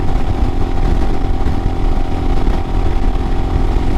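A 2022 Royal Enfield Himalayan motorcycle fitted with a Hitchcocks carburetor conversion runs steadily and loudly up close, its engine drone holding an even, continuous note for the whole stretch with no voices.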